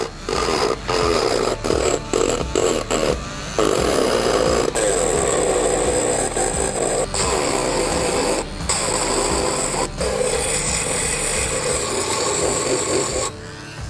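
A Dremel Stylo rotary power carving tool buzzes steadily through the grooves of a wood carving, a continuous close whine with brief dips and breaks as it cleans fuzz from small nooks.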